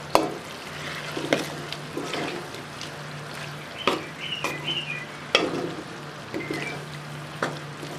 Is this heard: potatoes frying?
yes